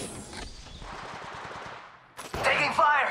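Apex Legends gunfire crackles in rapid automatic bursts, a close staccato rattle that pauses and then returns louder, with a voice speaking alongside it.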